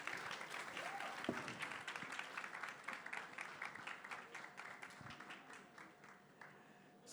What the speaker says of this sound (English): can we have a round of applause for the panel